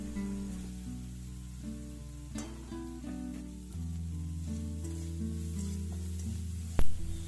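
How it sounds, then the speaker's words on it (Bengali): Small prawns with salt and turmeric fry in hot oil, a steady quiet sizzle under occasional scraping strokes of a spoon, with a sharper clink near the end over a faint low hum. "এরপর এটাকে লালচে লালচে করে ভেজে নিতে হবে নেড়ে চেড়ে"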